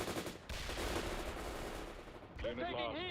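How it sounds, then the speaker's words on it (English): Rapid machine gun fire aimed at a tank in the strategy game World in Conflict, a dense continuous rattle of shots, with a sharp ricocheting burst near the end. "Machine guns at the tank,"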